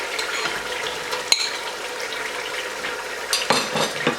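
Mashed boiled potatoes being stirred into a tomato masala frying in oil for Amritsari aloo, with a steady sizzle and soft scraping of a spoon against the pan, plus a couple of sharp clinks.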